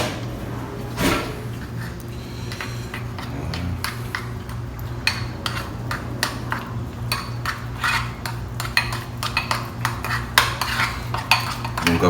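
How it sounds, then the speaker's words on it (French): A spoon stirs a bowl of food mixed with cinnamon, giving a steady run of quick clinks and scrapes against the dish, close and fairly loud, with no talk over it. "je mélange le tout simplement"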